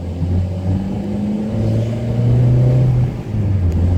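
A rebuilt Ford Endura engine revs up and holds, its steady mid-pitched drone rising and falling in two long pulls, loud and close with no talking.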